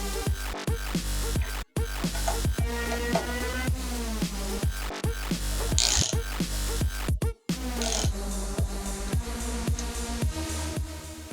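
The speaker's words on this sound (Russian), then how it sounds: "Теперь гайку можно открутить." A nut comes off the rear shock absorber of a 2012 Yamaha WR450F motorcycle with rapid, repeated metallic ratcheting clicks, close and fairly quiet, broken by two brief pauses.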